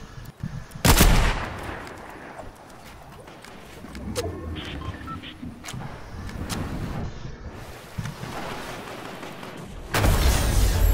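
Gunfire in the Fortnite video game, with several loud sharp bursts early and late over a steady windy game background, no talk heard.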